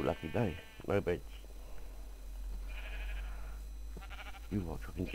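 A Minecraft sheep bleats in short, wavering calls, with a few quick bleats near the start and another at the end, under a steady low hum, and someone talks briefly in between.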